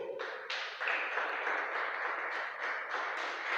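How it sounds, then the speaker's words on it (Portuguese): A church congregation claps together to praise the Lord, a dense, steady wash of applause filling the room for several seconds without speech. "Desocupe as suas mãos e vamos aplaudir ao Senhor"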